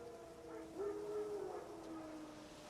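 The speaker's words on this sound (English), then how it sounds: "Wild dogs. Yes. More dangerous than wolves." Wild dogs howling in the video game The Witcher 3: a single drawn-out mournful howl rising and sliding over a low ambient hum, moderately faint and distant, with no speech over it.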